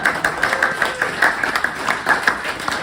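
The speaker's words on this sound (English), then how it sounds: "Big clap" Audience clapping in a rhythmic, regular beat at a design meetup, loud and close, steady for several seconds with a faint voice underneath.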